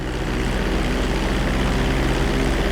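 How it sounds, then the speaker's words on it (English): A video game airplane at a GTA 5 flight school throttles up for takeoff, its engine a loud, steady, continuous drone with a low heavy rumble and no voices. "Hold the throttle all the way down to pick up speed, and pull back on the stick to take off."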